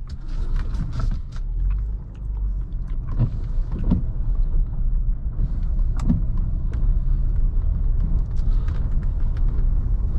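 A 2015 Jeep Cherokee Limited with a V6 drives along a gravel road, heard from inside the cabin as a steady, loud engine and road rumble with occasional knocks and clunks.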